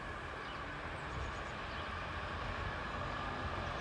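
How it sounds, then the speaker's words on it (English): A steady, distant rumble of a freight train passing Thrumpton Level Crossing, broadband and even throughout, with no voices. "Let's just wait for the freight train"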